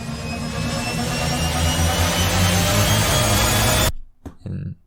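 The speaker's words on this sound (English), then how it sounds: "And put the risers." A riser effect in an anime-style orchestral soundtrack, a loud, dense, steadily climbing swell that builds for about four seconds, then cuts off sharply into a couple of short low hits.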